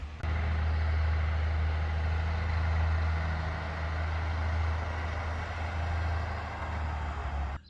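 A large delivery truck arrives carrying a load of roofing material, its diesel engine a steady loud low rumble that idles and churns nearby without pause, with no voices over it.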